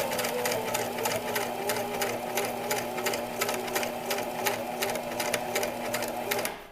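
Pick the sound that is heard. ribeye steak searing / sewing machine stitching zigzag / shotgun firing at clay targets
sewing machine stitching zigzag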